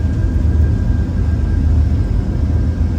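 Boeing 747 jet engines spool toward takeoff thrust on a crosswind departure, a steady, loud low rumble and roar with a faint high whine, continuous and alone with no talk.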